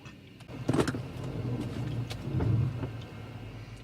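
A car creeps slowly along a residential street, its low engine rumble and tyre noise steady and close, with a few faint clicks and knocks from inside the cabin.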